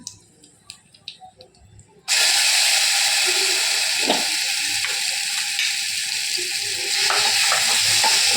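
Curry leaves and torn dried red chillies frying in a pan, a loud steady sizzle that bursts in suddenly after a couple of seconds of quiet clinks and continues strongly to the end.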